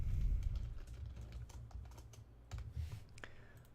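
C++ code is typed on a computer keyboard, giving a quiet, continuous patter of key clicks over low background hum, with no voices.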